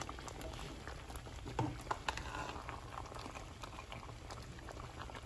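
A pot of mung bean stew in coconut milk with squash and sweet potato simmering at a steady, low bubbling boil, with soft pops and gurgles throughout, close by.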